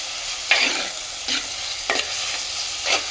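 Tomatoes sizzle steadily in a hot pan while a spoon stirs them in four brief scraping strokes, close up.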